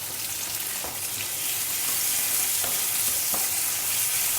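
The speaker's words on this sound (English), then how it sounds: "I am lightly frying everything well together." Dal, dried red chillies and a green chilli sizzle in a pan as they are lightly fried together, a loud continuous frying crackle with a few soft stirring knocks.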